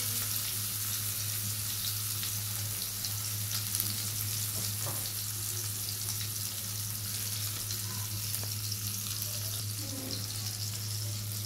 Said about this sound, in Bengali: তেলটা আমার গরম হয়ে আছে। এবার আমি মাছগুলো দিয়ে দিব।